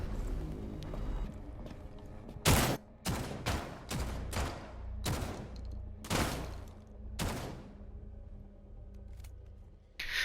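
Shotgun blasts go off in Rainbow Six Siege: about seven loud, sharp booms, each with a short decaying tail, spaced irregularly over several seconds and close by.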